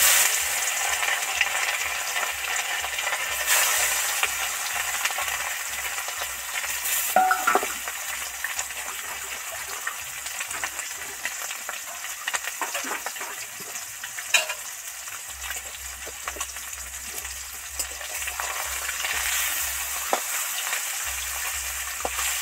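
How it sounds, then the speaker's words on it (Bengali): Small mourola fish sizzle and crackle in hot, smoking oil in a pan, a steady close frying hiss with scattered pops and occasional soft scrapes of a spatula, no voices. "এইভাবে আস্তে আস্তে একটা একটা করে ছাড়া ছাড়া করে দিলে তবেই ভালো ভাজা যাবে"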